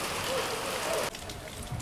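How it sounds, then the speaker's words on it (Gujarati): Heavy rain falls at night at Madgaon railway station in Goa, a dense, even hiss of downpour on surfaces that shifts abruptly in tone partway through. "વરસાદ હાલ અત્યારે એટલો પડી રહ્યો છે ને અહીંયા ગોવામાં"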